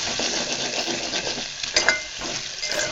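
A spoon stirs a pinch of turmeric through hot frying oil in a pan, a continuous close sizzle and crackle with a few brief scraping clinks.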